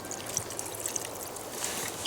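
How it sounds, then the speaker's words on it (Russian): Water trickling and pouring into a cooking pot over a campfire in the woods, a soft, steady stream that holds for about two seconds with no talk. "Так, чуть-чуть добавлю воды,"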